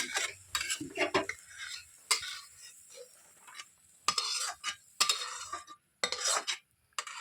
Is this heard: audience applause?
no